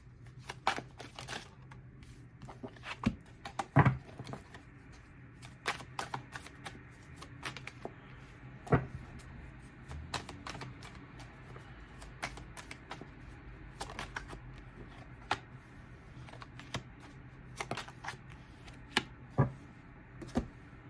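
Tarot cards shuffled and drawn, giving soft riffling ticks and sharp papery taps in irregular bursts over a quiet room, close and fairly faint, with no talking.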